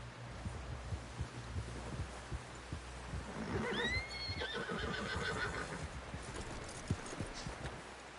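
A horse in Red Dead Redemption gives a clear, rising whinny midway, with soft hoof clops and low background rumble around it.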